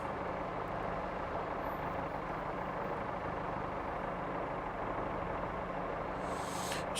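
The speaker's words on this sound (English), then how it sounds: "Don't know why we're putting the brakes on." Class 143 diesel multiple unit on the Riviera Line slowing on its brakes approaching Starcross, a steady low rumble and rushing hiss heard from on board, with a brief higher screech near the end.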